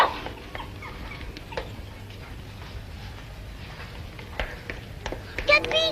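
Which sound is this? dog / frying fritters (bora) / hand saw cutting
dog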